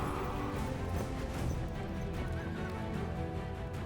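Horses whinnying and galloping as a cavalry effect, with steady hoofbeats and neighs filling the whole stretch at a constant, busy level with no talk.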